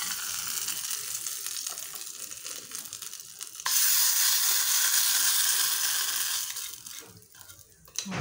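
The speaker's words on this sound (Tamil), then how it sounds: "இப்போ இந்த சட்னி வந்து தாளிச்சிக்கலாம்." Hot oil crackles and sizzles steadily while tempering spices for chutney, then jumps to a louder, hissing burst midway as something is added, before gradually fading down.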